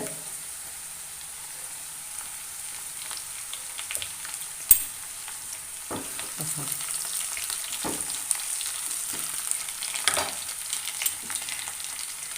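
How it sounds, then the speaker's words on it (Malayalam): Curry leaves crackle and fry in a pan of oil for a wild lemon pickle, a soft continuous sizzle with scattered pops and occasional stirring scrapes, heard alone without voices. "ഇനി രണ്ട് മൂന്ന് തണ്ട് കറിവേപ്പില ഇട്ട് കൊടുക്കുന്നുണ്ട്"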